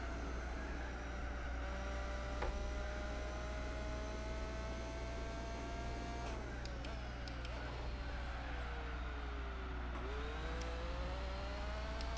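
A race car engine in Gran Turismo 4 revs while standing still, a steady droning tone that rises slowly and then drops and wavers, set under a constant low hum with a voice talking over it.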